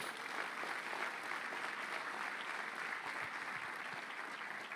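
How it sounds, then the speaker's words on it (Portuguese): A church congregation applauds during a sermon, producing a sustained, even wash of clapping from many hands that stays at a steady level throughout without a break. "Você pode aplaudir o Senhor por isso?"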